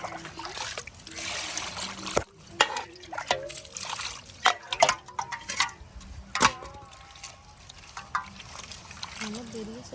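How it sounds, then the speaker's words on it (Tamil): Fish are rinsed in water, with trickling, splashing and dripping sounds coming in irregular bursts close by, while voices talk intermittently. "மீன் நல்லா கழுவு"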